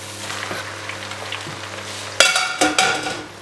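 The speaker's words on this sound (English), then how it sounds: "what I am doing now is just give this a good mix around, get all that sauce mixed in" Pasta being stirred in a pan with olives, parsley, mint, coriander and sauce, a soft sizzle under the first seconds, then several louder scraping, clinking stirs near the end; no talking.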